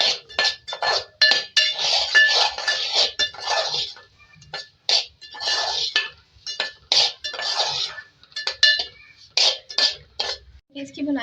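Semolina roasts in half a cup of ghee in a pan for an egg suji halwa, with a spoon scraping and clinking against the pan in quick, uneven bursts and short pauses between them.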